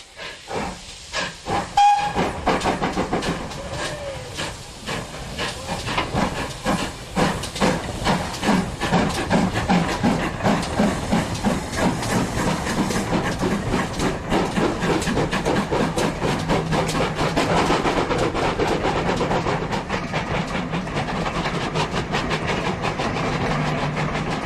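Two GWR steam locomotives, 0-6-0 No. 3205 and pannier tank No. 5786, make a double-headed departure from Totnes: a loud hiss of steam, a short whistle, then rapid, strong exhaust beats that build into a steady chuffing rhythm.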